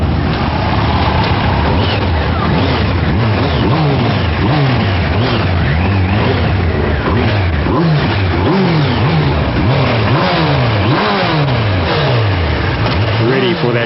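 Kawasaki ZX-12R and Suzuki Hayabusa sport motorcycles rev their engines hard at a drag strip, loud rising and falling revs repeating in rapid bursts throughout, with a narrator talking over them.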